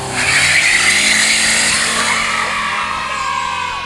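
An Opel Zafira OPC with a turbocharged two-litre 200-horsepower engine does a burnout, loud and close: a sustained harsh screech of spinning tyres over a steady droning engine, continuous for about four seconds with no talk.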